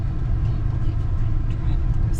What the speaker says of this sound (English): Driving through a cemetery.